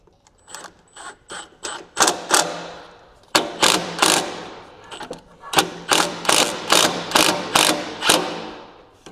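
A ratchet clicks in quick close bursts, with short pauses between strokes, as a screw is driven into a hose clamp during servicing of a Kubota ZD1211 zero-turn mower.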